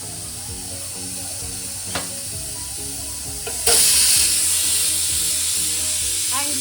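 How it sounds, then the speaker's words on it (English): Steamed aloo vadi sizzle steadily in hot oil in a kadai, then a louder burst of crackling frying begins partway through and continues, with a few light clinks. "These are the steamed aloo vadi. I'll fry it now."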